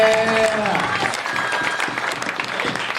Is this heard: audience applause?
yes